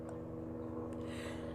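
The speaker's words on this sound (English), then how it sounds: "I think that's a helicopter." Helicopter flying overhead, a steady low droning hum with a faint pulsing rotor beat holding at an even, moderate level throughout.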